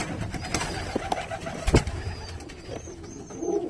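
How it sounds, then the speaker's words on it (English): Flying tippler pigeons on a New York City rooftop loft coo softly amid a busy flock, with faint bird calls and distant traffic hum in the background. "Pretty birds."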